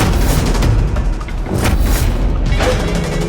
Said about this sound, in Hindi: मानो राजीव पर पार्टी में गोली चल गई है।